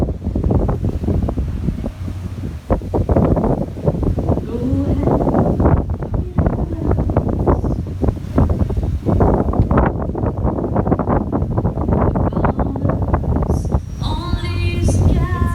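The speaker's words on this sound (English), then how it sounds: "It's too windy out here." Strong outdoor wind in the Maldives buffets the microphone in constant loud, gusty rumbles, with brief faint voices and clinking near the end.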